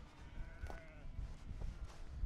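Sheep grazing on a mountain pasture let out a couple of faint, wavering bleats, one near the middle and another toward the end, over a low rumbling background.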